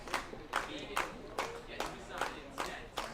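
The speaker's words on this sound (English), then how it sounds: "Slow clap starting here." A crowd at a Saugerties Stallions versus Amsterdam Mohawks baseball game joins in a slow clap, about eight loud, evenly spaced claps over a murmuring background.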